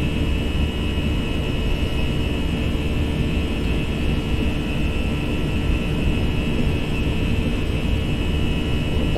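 Airbus A320 jet engines at takeoff thrust in the Prepar3D flight simulator, a loud, steady, dense roar with a constant whine that holds unchanged for the whole stretch.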